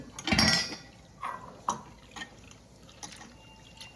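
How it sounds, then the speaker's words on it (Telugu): Toor dal, pigeon peas, is rinsed in water in a kitchen vessel: a splashy swirl up front, then a few scattered sloshes, drips and light clinks of grains against metal, close and without talk. "దీంతో కందిపప్పు తీసుకున్నా. ఇవి శుభ్రంగా కడుక్కోవాలి."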